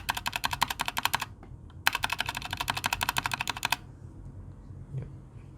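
Fast, clacky keystrokes on a Keychron K2 mechanical keyboard with a somewhat hollow tone come in two close bursts of rapid typing separated by a brief pause, then fall quiet.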